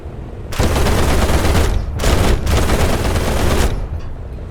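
Aircraft machine guns blaze in War Thunder during an attack on a heavily armed American bomber, loud sustained bursts with brief gaps between them, no talking.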